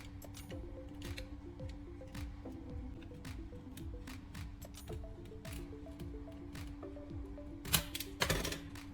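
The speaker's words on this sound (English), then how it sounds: "I carefully strip off about 4 inches, a good 10 centimeters of the outer insulation." Outer insulation is stripped from a coaxial TV antenna cable with quiet, repeated small cutting clicks and scrapes over a low steady hum, ending in a short, louder crackling burst.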